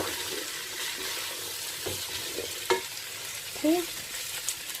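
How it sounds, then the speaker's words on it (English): Jambalaya ingredients with carrots frying in a pot, a constant soft sizzle broken by a couple of stirring scrapes and clinks, close and fairly quiet, with no talking. "Fry it up a bit, give it a stir, and stir."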